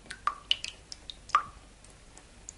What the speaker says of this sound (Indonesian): Bunyi tadi adalah suara air menetes dari keran yang bocor.